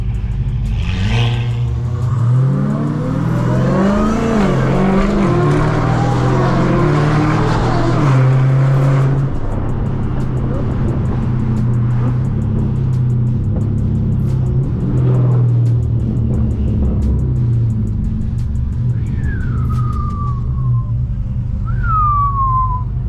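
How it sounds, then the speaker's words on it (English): A loud car engine revs and drones, pitch rising and falling, with high whistling turbo sounds near the end. "That's exactly how those turbos sound."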